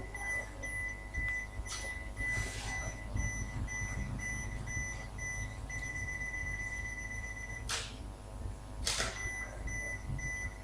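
Evenly spaced electronic beeps from a Nikon D3500 camera self-timer repeat steadily over low background rumble, with a couple of soft clicks and shuffling noises.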